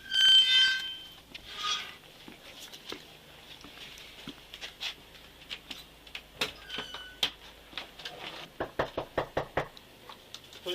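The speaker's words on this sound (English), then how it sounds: "body camera video shows them approaching Dodson's front door and knocking" Police officers rap on a residential front door during a domestic violence call, an electronic beep opening the sequence before sharp knocks come in irregular groups, growing faster and more insistent toward the end.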